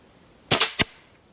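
A .22 caliber air rifle shot cracks sharply, followed a quarter-second later by a second short impact, both close and loud against a quiet background.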